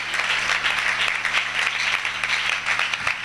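A church congregation at a Sunday worship service applauds steadily, with a dense, even roar of many hands clapping close by. A low hum sits underneath and no voices speak.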